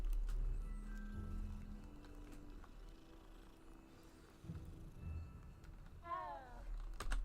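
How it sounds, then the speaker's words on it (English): A pettable cat in Hogwarts Legacy gives a couple of short, high meows near the end, over a steady low game ambience and soft footsteps. "Kitty."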